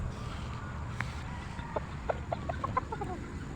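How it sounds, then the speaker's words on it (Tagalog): A six-month-old golden boy sweater gamefowl rooster gives a short run of soft clucks, several quick calls in the second half against a steady outdoor background hum. "Isang golden boy sweater."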